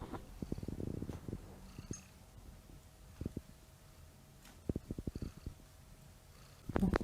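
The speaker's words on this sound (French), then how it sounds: "il faut que vous entendiez parce qu'elle ronronne" A cat purring up close, soft rhythmic pulses in short bursts separated by quieter stretches.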